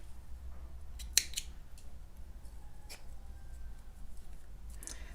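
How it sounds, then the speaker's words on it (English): Scissors snip through crochet yarn once, a single sharp close cut standing out against a quiet, soft background with faint handling ticks. "now you're going to cut your yarn"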